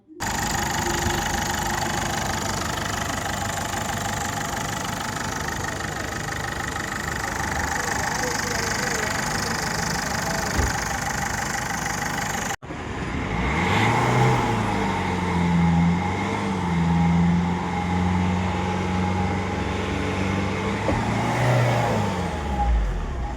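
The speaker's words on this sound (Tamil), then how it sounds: "இன்ஜின் சவுண்ட் கேட்டு பாருங்கள்" A 2010 Ford Figo's engine runs steadily, then the sound shifts as it idles closer with slight revving and wavering pitch.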